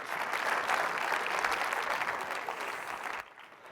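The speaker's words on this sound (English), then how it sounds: "Let's have a round of applause for all of these sponsors." Dense applause from an audience at a film festival event honoring sponsors, steady and sustained before cutting off abruptly near the end.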